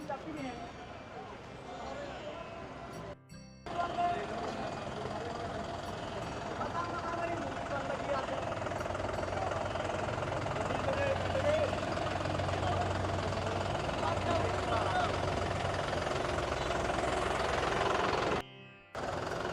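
A new John Deere tractor engine runs loud and continuous at a dealership, a rough knocking drone with voices talking over it, cutting out briefly twice.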